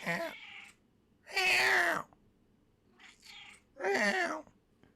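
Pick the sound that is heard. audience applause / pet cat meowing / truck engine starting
pet cat meowing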